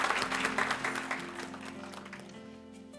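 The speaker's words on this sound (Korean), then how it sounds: "박수로 맞아주시기 바랍니다" Dense applause from a crowd at a Korean peace forum event, steady at first and gradually tapering off over a few seconds.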